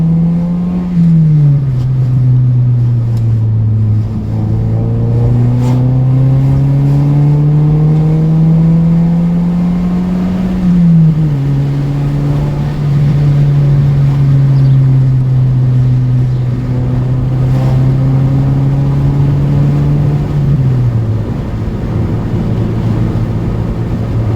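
An Audi car engine drones loudly and steadily while driving, its pitch climbing and falling through gear changes in a long, continuous run with no voices.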